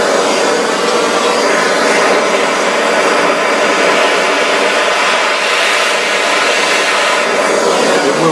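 A torch flame heats a copper nickel coin being made into a ring, giving a loud, steady roaring hiss that holds unbroken throughout.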